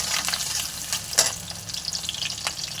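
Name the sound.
chopped ginger and garlic frying in hot oil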